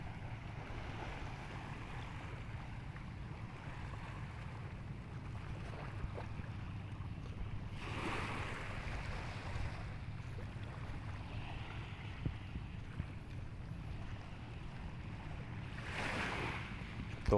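Calm sea waves washing gently around a boat, a soft continuous wash with light wind buffeting the microphone and two brief louder surges of spray, no voices.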